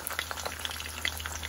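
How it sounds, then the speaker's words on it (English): Fish for escabeche frying together in a big pan, a close continuous sizzle with bright spitting pops throughout, heard alone. "we will fry them together now because I got big pan"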